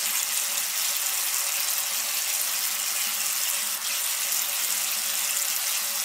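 Water runs steadily from a tap into a sink while a face is wetted, a continuous close hiss with no breaks and no voices.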